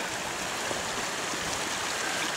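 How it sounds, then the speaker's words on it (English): Rocky Creek in Kananaskis flows steadily over rocks, a dense, continuous rushing and babbling of water close by, with no voices. "Along the creek here, it's quite enjoyable."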